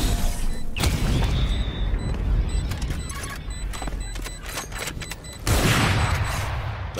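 A swarm grenade bursts in Valorant, giving a rapid cluster of sharp, crackling pops over steady game noise and faint electronic beeps, with a louder rush near the end.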